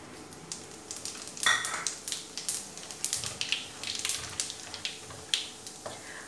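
White cumin seeds dropped into hot ghee give a faint, close crackle and sizzle, broken by scattered sharper pops and stirring scrapes, with no one speaking.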